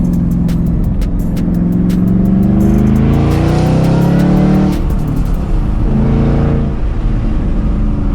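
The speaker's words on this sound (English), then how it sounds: "this car is so much fun to drive, and it makes such great noises" A Ford Mustang GT500 accelerates hard from inside the cabin, its engine note climbing through the revs, dropping at a shift and climbing again, loud and close with no talking.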